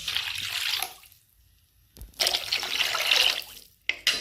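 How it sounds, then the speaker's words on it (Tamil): Water pours in two main bursts, a steady splashing stream that stops for about a second and then resumes, with three tumblers of water going into a pot of rice and moong dal. "அதுக்கு 3 டம்ளர் தண்ணியை ஊற்றிக்கிறேன்"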